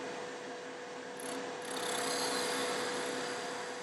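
A skew chisel cuts into a spinning wooden pen blank on a lathe, giving a steady motor hum with a rising scraping, shaving rasp as the cut deepens. The sound is close and continuous with no talk.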